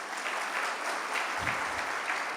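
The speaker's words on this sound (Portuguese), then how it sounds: "Salve de palmas para esses dois irmãos." A church congregation claps for two new converts, a steady wash of many hands applauding together, fairly full and even throughout, with a brief low murmur partway.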